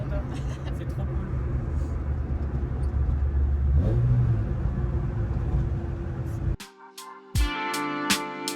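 A Peugeot 106 engine revs hard, a loud steady drone that rises briefly around the midpoint, then cuts off abruptly near the end into sharp clicks and clatter, with voices talking over it.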